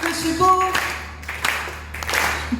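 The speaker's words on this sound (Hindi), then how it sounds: "तालियां कमजोर है" A thin, weak spatter of audience applause rises at a poetry recital (kavi sammelan) in Kasganj, in brief bursts mixed with a voice in the hall.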